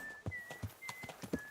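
Horse hooves clopping in a steady, close rhythmic gait in Kingdom Come Deliverance 2, with a faint tonal whistle running in the background.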